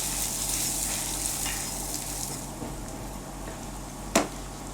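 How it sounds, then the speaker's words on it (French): Rice frying in fat in a pan while being coated for risotto, a steady soft sizzle with faint stirring scrapes and one sharp clack near the end. "On va bien l'enrober de matière grasse jusqu'à ce qu'il soit bien nacré."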